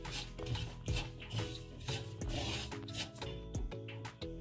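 Desiccated coconut stirred and scraped in a pan as it dry-roasts over medium heat, a steady close rubbing, rasping texture with irregular scrapes and no talking.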